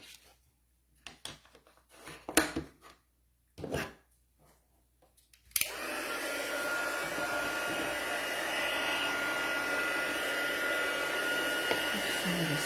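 Faint scrapes and taps of card handling give way to a heat tool switching on abruptly, then a steady loud blowing whir as it heats clear embossing powder on a card.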